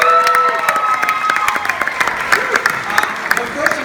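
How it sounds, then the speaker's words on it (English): A gathering at a 7th grade volleyball team ceremony applauds the players. Sharp claps mix with scattered cheers, whistle-like squeals and children's voices, sounding lively and close throughout. "let's give them one more round of applause."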